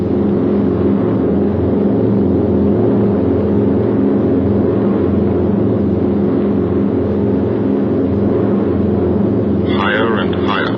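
The engines of the B-17 bomber Memphis Belle drone steadily in flight during World War II, a loud continuous low roar with a narrator talking over it.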